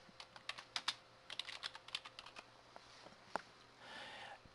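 Computer keyboard being typed on during software data entry for a hotel deposit policy, a quick run of close, crisp key clicks with short pauses, then a softer rustle near the end; no talking.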